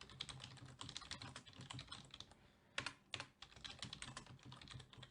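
Rapid typing of code on a computer keyboard, dense clicking keystrokes in bursts with a short pause near the middle, close and clear with no voices.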